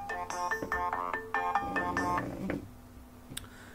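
A phone ringtone signals an incoming call on a live stream, a bright repeating melodic trill for about two and a half seconds before stopping, then near silence.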